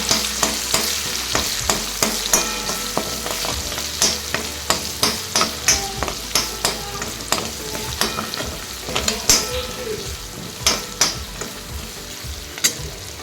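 Onion and tomato frying in oil for a chicken gravy tempering, a loud steady sizzle with a regular series of spatula scrapes and taps against the pan throughout, close and without talk.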